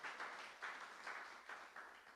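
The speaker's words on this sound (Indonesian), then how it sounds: "Tepuk tangan yang paling meriah." A church congregation applauding during a miracle prayer service, a soft, steady wash of clapping with gentle rhythmic swells, heard from some distance.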